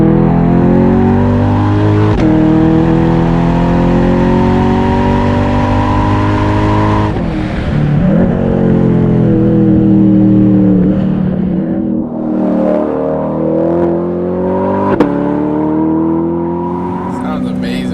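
A Chevrolet C8 Corvette with a Hennessey exhaust upgrade revs loudly and close, repeated throttle blips climbing and falling in pitch over a deep rumble, with people talking over the engine.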